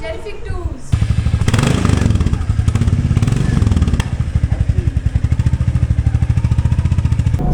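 A motorcycle sets off along a road in the early morning. After a brief quiet start, a loud, close engine thrums in a rapid, steady pulsing beat that carries the rest of the way.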